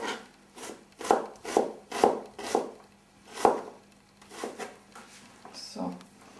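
A knife chops steadily on a cutting board as onions and garlic are finely diced, a series of close, crisp taps in an uneven rhythm, with a brief faint voice near the end.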